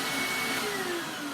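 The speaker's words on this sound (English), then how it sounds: "now let's go with the Hoover Self-Propelled Windtunnel" A Hoover Self-Propelled Windtunnel upright vacuum cleaner runs on sawdust with a steady, loud motor whine and broadband airflow roar, plus a faint rising tonal note, close and continuous with no speech.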